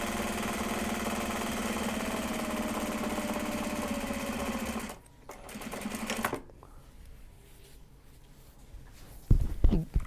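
A sewing machine stitches fabric for a Japanese fabric bag at high speed, a steady buzzing whir for about five seconds that stops abruptly, followed by quieter handling noises and a brief knock near the end.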